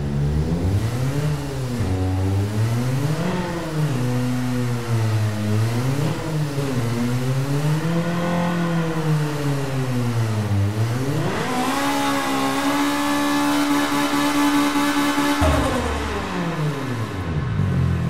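A car engine in a racing video game, loud and close, revs up and down repeatedly as it climbs through the gears, with pitch rising and dropping at each shift and no voices.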